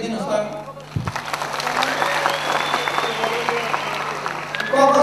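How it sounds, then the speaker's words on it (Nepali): An audience at a live comedy or talk show breaks into clapping after a pause, the applause swelling and continuing steadily, with brief voices at the start and end. "एकचोटि ताली बजाइदिनुहोस् त"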